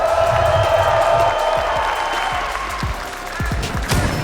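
A large esports arena crowd at a Counter-Strike major semifinal between FaZe Clan and LOS roars, cheers and applauds steadily throughout, a dense wash of claps and whoops with faint speech mixed in.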